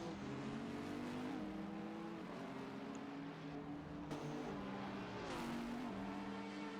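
A McLaren race car engine in a virtual 24-hour racing game qualifying session drones continuously, its pitch stepping up through gear changes with brief drops between shifts, steady and moderately loud.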